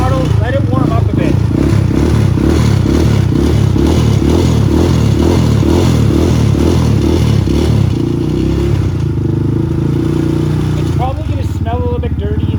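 A motorcycle engine just started and warming up with the choke on after coming out of storage, idling in a steady loud rumble with throttle blips near the end; loud and close throughout, with speech faintly present.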